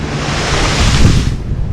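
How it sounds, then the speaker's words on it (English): Ocean waves surge and roar at the Nakalele Blowhole on Maui's far western coast, a loud, continuous wash of surf mixed with heavy wind buffeting the microphone. "we're waiting for a wave to come in from the ocean and go through the channel under there and come up that hole"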